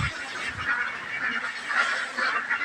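Ducks crowd and feed noisily on fish, a dense chorus of honking quacks and splashing close by, steady throughout with no talk.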